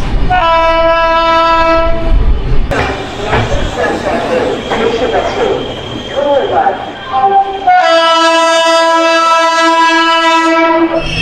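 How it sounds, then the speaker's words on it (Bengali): The 12325 Gurumukhi SF Express pulls into Asansol Junction, sounding loud, sustained horn blasts at the start and again near the end, with rumbling carriages and station noise in between. "আমাদের ট্রেনের প্রথম হল্ট আসানসোল জংশনে পৌঁছে গেছে আমাদের গুরুমুখী এক্সপ্রেস।"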